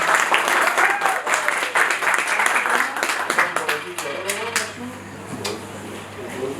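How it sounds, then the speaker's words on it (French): Audience applause at a book dedication event in Brussels, broad clapping sustained throughout with a few sharper claps standing out, fairly close and fading slightly toward the end. "on l'applaudit s'il vous plaît."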